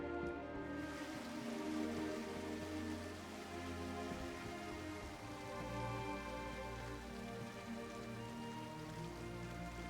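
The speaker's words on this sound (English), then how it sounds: "but it's still raining" Steady rain falls in a survival video game, a continuous soft patter of drops on surfaces behind a house with a leaky roof, even and unbroken for the whole stretch.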